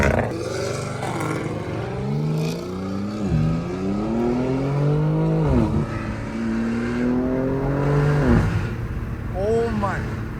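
A Dodge Hellcat Redeye's supercharged engine revs repeatedly on the street alongside BMW M4 and M3 competition cars, rising and falling in loud, roaring pulls close by, with excited voices talking over it.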